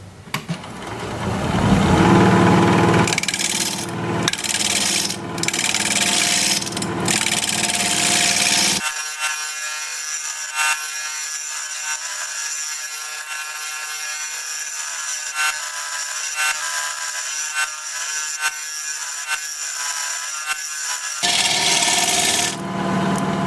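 A wooden pedestal spinning on a lathe is rounded over and beveled, giving a continuous scraping, rasping tool cut against the wood with occasional heavier scuffs and catches, loud and close; no talking.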